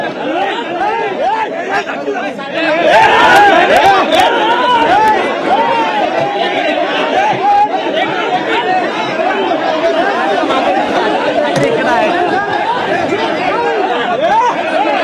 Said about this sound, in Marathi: कार्यकर्त्यांची सुद्धा गर्दी झालेली आहे